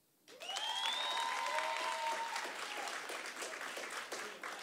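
Applause and cheering rise from a comedy show crowd and hold steady throughout, with a few whoops and whistles near the start over dense, moderately distant clapping.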